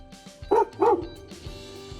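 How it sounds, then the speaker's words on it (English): A dog barks twice in quick succession at an RV pod camper, two loud close woofs standing out over a quiet background with faint softer sounds around them. "And that's my dog barking."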